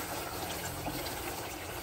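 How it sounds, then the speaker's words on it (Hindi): Water poured into a pressure cooker of mutton masala, a continuous splashing rush of liquid throughout, fairly close and with no talking. "इसके बाद पानी डाल दें"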